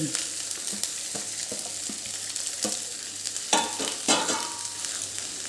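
Cabbage, carrot and capsicum sauté in hot oil in a pan for spring rolls, giving a steady close sizzle with scattered stirring scrapes and spatula clicks, no talking.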